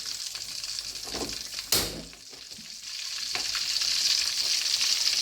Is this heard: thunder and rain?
no